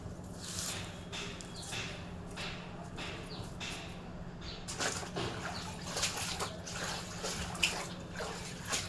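Lemons being rinsed by hand in water, with soft splashing, squishing and handling noises running steadily throughout, close up, a low hum underneath and no talking.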